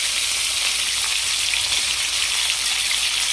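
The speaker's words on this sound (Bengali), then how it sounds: "চিকেনগুলোকে আস্তে আস্তে ভেজে নেব।" Chicken pieces frying slowly in a pan for a dhaba-style chicken roast, a steady dense sizzle with fine crackling throughout, close and loud.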